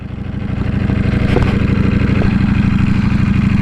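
A Ducati motorcycle engine runs close and steady in gear with an even, rapid pulsing throb that builds slightly in loudness, with no talk over it.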